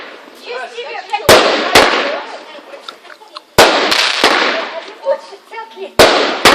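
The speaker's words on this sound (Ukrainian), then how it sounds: "Вот это салют." A fireworks salute bursts in loud, sharp cracks, several blasts spaced a few seconds apart, each trailing into a crackling hiss, with voices talking between the bangs.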